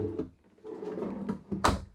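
A pull-out drawer in a 2021 Fleetwood Discovery RV kitchen slides open or shut with a short rumbling glide, ending in a sharper knock near the end; close and fairly quiet.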